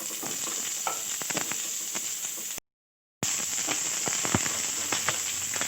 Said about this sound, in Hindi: अब हम जो है फूल गोभी को सौते कर रहे हैं इस वक्त।